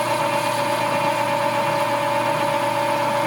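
A metal lathe machining a spring perch sleeve under hand feed gives a steady, continuous mechanical hum with a constant tonal whine, even and unchanging throughout, with no talk.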